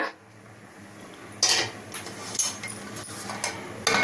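A pressure cooker lid being set in place and closed on a boiling pot of green gram rice, giving several short metallic clatters and clinks at close range over a low background hum.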